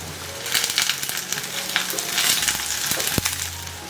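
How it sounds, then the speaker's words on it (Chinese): Ginger, garlic, mushrooms and onion stir-frying in oil in a clay pot, a loud continuous sizzle with scraping stirs and one sharp knock near the end. "再重新拿个砂锅加少许油，把我们的姜跟蒜头还有香菇放进来炒香"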